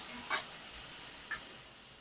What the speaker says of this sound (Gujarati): સાંતળી લઈશું બધું.